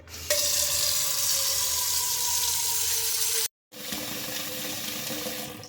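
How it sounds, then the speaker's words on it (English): Tap water pours steadily into a big pot in a home kitchen. The rush of water stays loud and even, with a faint tone that rises as the pot fills, and it breaks off in one short gap. "We're going to fill that pot up with some water."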